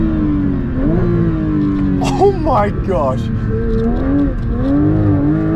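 A Porsche 992 GT3's naturally aspirated flat-six screams through the rev range on track, its loud rising and falling engine note running steadily throughout under excited talk.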